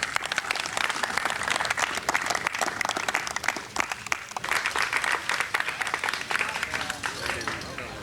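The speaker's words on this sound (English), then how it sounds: "So I think we ought to give these people a round of applause for you guys." A crowd at a 1985 homecoming welcome for a Little League Junior League all-star team gives a long round of applause. The dense, loud clapping is sustained for the whole stretch, with a voice faintly mixed in.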